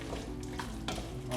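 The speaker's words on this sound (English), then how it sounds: "Give it a little stir." Food sizzles gently in a pan as it is stirred, soft frying crackle with a few scraping stir sounds, fairly quiet and close.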